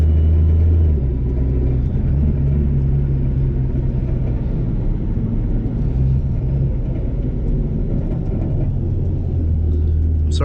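A supercharged 3.7 Mustang runs with a loud, continuous engine rumble, and a thin supercharger whine rides faintly over the low drone.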